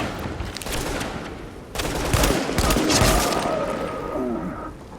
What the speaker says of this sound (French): c'est le moment de montrer le sniper.